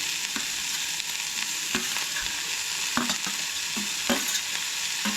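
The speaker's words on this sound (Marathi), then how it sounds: "कांदो आनी टमाटूच न्हय चड घाला आनी ते बीन हांगसर बरें मातशें हलकेशें भाजून घ्या." Onions and tomatoes sautéing in a pan for a Goan mushroom gravy, a steady close sizzle with repeated soft scrapes of stirring, no voices.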